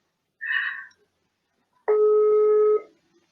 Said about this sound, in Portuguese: eu vou ligar para uma pessoa agora, pelo WhatsApp